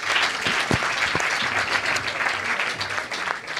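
An audience claps after a startup pitch at a business pitching event, a dense, steady round of applause from a room full of people, with a few sharper nearby claps.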